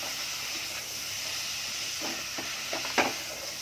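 Spinach dal ingredients sautéing in hot oil, a steady soft hiss and sizzle with a few brief stirring scrapes near the end.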